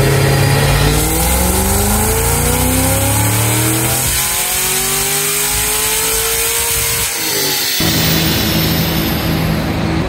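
A Cadillac CT5-V Blackwing with Magnuson, Kooks and tune bolt-ons roars through a loud, sustained full-throttle pull on a dyno, its engine note climbing steadily in pitch, briefly dipping near the top, then climbing again.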